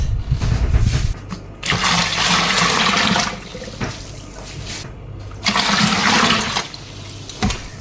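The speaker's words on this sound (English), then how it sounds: "next into the bucket we are going to put 4 liters of water" Four liters of water poured into a bucket for homemade pineapple beer, a loud rushing splash in several bursts with brief pauses between pours.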